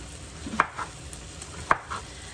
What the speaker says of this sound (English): I'm just going to cut Stella's zucchini into half moons